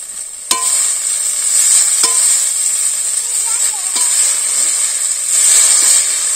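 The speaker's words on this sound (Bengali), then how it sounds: "এখন আমরা শাকগুলো দিয়ে দিই, শাকগুলো ভেজে নিই" Leafy greens fry in a pan with a loud steady sizzle and hiss, broken by a few sharp clinks of a utensil against the pan.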